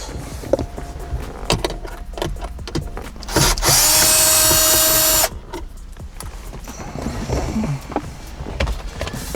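A powered screwdriver backs Phillips head screws out of a Subaru car radio. A close, steady whir lasts about two seconds, surrounded by scattered clicks and handling noises, with no talking.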